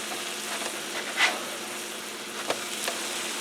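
A grilled cheese sandwich sizzling in a pan, a steady, close frying hiss with a few small crackles and a light scrape or tap.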